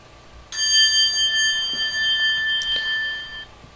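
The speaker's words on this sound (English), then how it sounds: "It's still got the Westinghouse dinner bell." A Westinghouse elevator's dinner bell chime rings in a modernized elevator at a Raymour & Flanigan store. One bright, sustained tone sounds for about three seconds and then cuts off in a quiet space.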